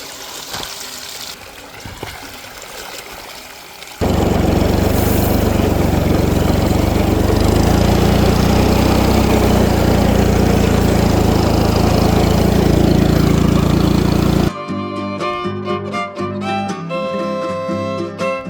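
A farm tractor's engine runs close by with a loud, steady drone that starts suddenly and holds for about ten seconds before cutting away to other sounds.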